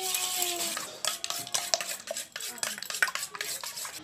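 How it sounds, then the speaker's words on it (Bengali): Two eggs with chili powder and salt are beaten in a bowl, a utensil clinking and scraping against the sides in quick irregular strokes, close and clear. "কোট করার জন্য ডিমটা আমি ভালো করে ফেটিয়ে নেব।"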